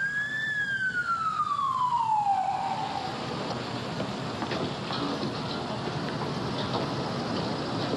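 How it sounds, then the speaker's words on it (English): Police sirens wail in a falling sweep that drops in pitch over the first few seconds, then fade into steady broadband outdoor noise that sounds like rain or traffic wash. "Here come the sirens."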